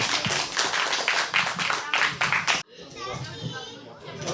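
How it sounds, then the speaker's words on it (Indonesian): Attendees at a Halal bi Halal gathering of a CVI car club clap together in a lively, uneven burst mixed with chatter and voices, then the clapping cuts off and quieter talk follows. "tepuk tangan teman-teman semua."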